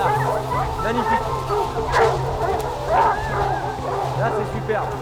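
Hunting hounds baying and yelping during a stag hunt in the Tronçais forest, a pack giving repeated overlapping cries at mid distance while people talk over them.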